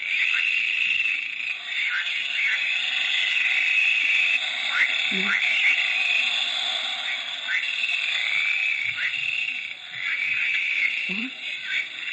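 Frogs croak in a dense chorus around water at night, a continuous layered trilling with repeated call bursts, steady and moderately close, with no talking over it.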